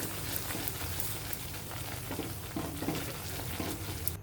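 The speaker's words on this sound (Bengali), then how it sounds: "এখন আমরা খুন্তির সাহায্যে একটু অনবরত নেড়ে দিতে হবে" Cooking caramel in a steel bowl is stirred continuously with a spatula, a dense steady bubbling sizzle with faint scraping, close and even throughout, no voices.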